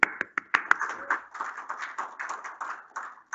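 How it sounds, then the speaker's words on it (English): A small conference audience gives a round of applause to welcome speakers: a few sharp, separate claps at first, then thinner, uneven clapping that carries on steadily for several seconds with no voices. "usual round of applause to welcome everybody online at home"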